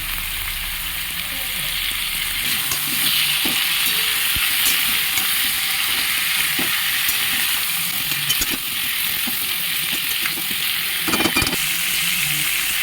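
Ground coriander, cumin and turmeric fry in oil with vegetables for a catfish curry, giving a loud, steady sizzle and hiss nearby, with occasional stirring scrapes and no voices.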